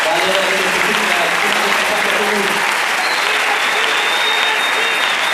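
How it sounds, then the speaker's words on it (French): Steady applause from a large church congregation fills the whole stretch, dense and sustained, with faint voices briefly audible underneath at the start. "Vous pouvez repartir sur les acclamations de vos frères."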